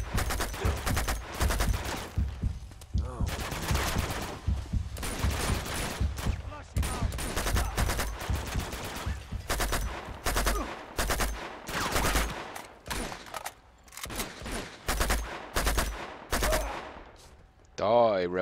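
Rapid bursts of automatic gunfire and single shots ring out again and again during an Uncharted 2 firefight at a dam, loud and close, with short gaps between volleys.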